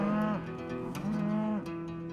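Cattle out grazing in the sun on a ranch give two long, deep, drawn-out moos with a short gap between them, fairly close and clear, no voices.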